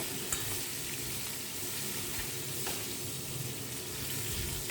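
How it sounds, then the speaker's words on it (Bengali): A katla fish head fries in oil in a pan, a steady close sizzle with faint stirring scrapes, continuous and even with no talking. "আমার মাছের মাথাটা ভাজা হয়ে গেছে"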